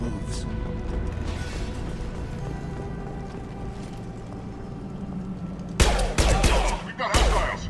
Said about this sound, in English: Blue Suns and Vorcha are shooting anything that moves.